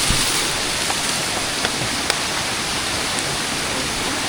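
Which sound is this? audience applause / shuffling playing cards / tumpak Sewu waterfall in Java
tumpak Sewu waterfall in Java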